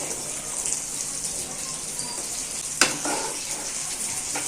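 Steady hissing sizzle of a fish head frying in a hot pan over low heat, with a brief clatter midway and no talking.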